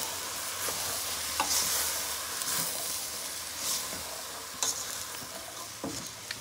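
Food seasoned with black pepper sizzles steadily in a pan for bora and salted fish, with a spoon scraping and stirring through it in brief bursts and a few sharper clinks, close and moderately quiet.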